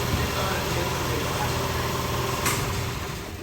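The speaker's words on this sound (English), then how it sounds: "Eric, I got your 63 Ford Falcon engine here on the dyno." A 347 multi-port EFI Ford crate engine for a 1963 Falcon runs on a dyno, giving a steady, loud, rumbling idle that holds constant throughout, with a brief higher rattle near the end.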